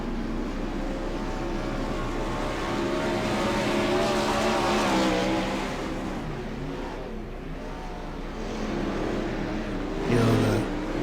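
Open-wheel non-wing race cars in iRacing at Volusia Speedway Park, one crashing up into the wall: a steady loud engine roar with tire scrubbing and a brief sharp impact near the end, with a commentator's voice faintly underneath.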